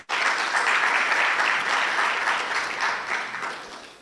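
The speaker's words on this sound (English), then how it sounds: "maybe you should give a round of applause for all the people who have just done presentations before me." Sustained applause from a crowd at a heritage and tourism conference, steady clapping that fills the space for several seconds before tapering slightly at the end.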